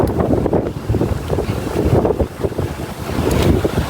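Strong wind gusting at sea near a boat, buffeting the microphone with loud, surging rumbles over a backdrop of waves and water.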